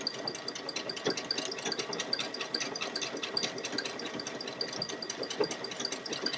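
A Baby Lock Solaris 2 sewing machine embroidering a Christmas wall hanging runs with a fast, even mechanical stitching rhythm and light rattling, at a moderate level without talk.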